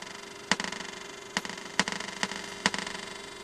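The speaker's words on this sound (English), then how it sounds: "Or you might get several echoes." Percussive count-in clicks over a faint steady hum, five sharp hits spread across a few seconds, each trailed by a string of quieter repeating echoes that flutter away before the next hit.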